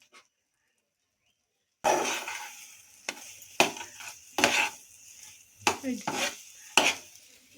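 Carrot cooks in a pan with freshly poured ghee for a carrot rasmalai; after a silent start, a spoon stirs and scrapes in irregular bursts over a soft, close sizzle.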